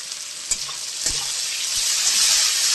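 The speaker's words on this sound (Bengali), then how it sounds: "এবার পেঁয়াজ লাল করে আমি ভাজতে থাকি" Onions sizzle steadily in hot oil, a dense even hiss that swells slightly toward the end, with a couple of sharp stirring knocks near the start.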